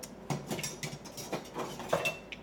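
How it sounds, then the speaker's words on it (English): Kitchen utensils clink and rattle softly as a spatula is fetched from among them, a few light metallic taps and scrapes in a quiet room. "Let me get my spatula so you can see."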